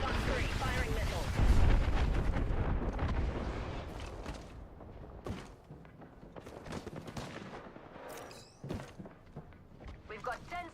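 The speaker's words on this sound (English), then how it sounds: "Fox 3, firing missiles." Missiles firing and exploding in Apex Legends, a dense run of sharp blasts and crackling gunfire that peaks early, then thins to scattered booms and shots under talk.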